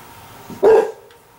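A single short dog bark, close and sharp, standing out against quiet background.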